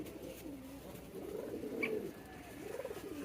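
Racing homer pigeons give soft, low, rolling coos, faint and somewhat distant, repeating over a steady background hum while the birds bask in the sun.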